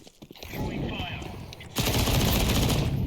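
Gunfire in Counter-Strike 2 during a 5v5 Faceit match: dense, rapid automatic bursts rattle continuously and grow louder partway through, under game sounds and voices talking.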